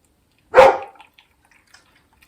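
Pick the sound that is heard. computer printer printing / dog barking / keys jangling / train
dog barking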